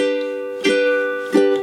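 Two bright strums on a Cordova ukulele, each ringing out with sustained harmonic tones before the next chord is strummed.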